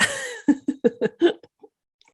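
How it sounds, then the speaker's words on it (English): A woman coughs in a quick run of about six harsh bursts after a brief moment of talk, then a final weaker cough trails off into silence. "while she's coughing"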